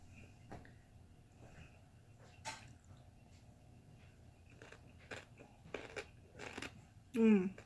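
Faint, sporadic crisp crunches of chewing fermented kimchi radish close by, ending with a brief louder burst of sound.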